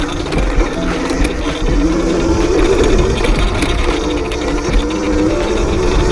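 An X Pro Drax dirt bike runs steadily on a rough mountain trail, its engine a continuous, fairly loud drone that stays even throughout, sounding quieter now that the loosened chain has stopped adding extra mechanical noise.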